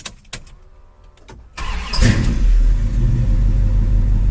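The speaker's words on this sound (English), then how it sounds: "Okay, let's do a cold start." A Plymouth Barracuda cold start: a short cranking whir, then the engine catches and settles into a loud, rumbling steady idle close by.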